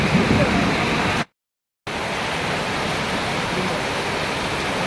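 Heavy torrential rain in Gazipur pours down as a dense, steady roar of close broadband wash, cut off by a brief full silence before resuming at the same even intensity.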